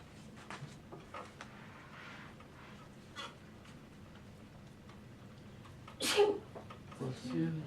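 A single sharp sneeze bursts out close and loud after quiet, faint background ticks and rustles. A short spoken reply follows.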